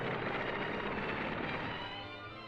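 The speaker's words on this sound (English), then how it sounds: "I could feel the plane taxiing" A plane taxiing toward the terminal after landing in California gives a steady, loud broadband engine roar with a droning whine that eases slightly toward the end, with no voices over it.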